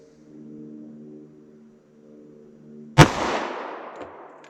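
A single sharp .45 ACP pistol shot fired with hot Buffalo Bore ammunition cracks loudly after a few seconds of quiet humming, followed by a short decaying echo.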